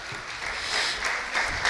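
Applause from the audience at a high school FFA ham and bacon livestock sale, greeting the buyer of a lot: a steady wash of clapping for under two seconds, moderately loud and without talk.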